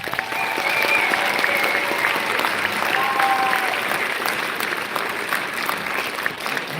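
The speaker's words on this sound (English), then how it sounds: "give them a round of applause." An audience claps steadily and loudly at a school holiday concert, a dense sustained wash of applause with a few faint whistles, and no talking over it.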